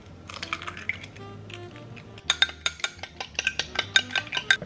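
A cracked egg being whisked for an egg wash: a quiet pause of light clinks, then a quick, steady run of sharp fork-against-bowl taps, close and clear with no talking.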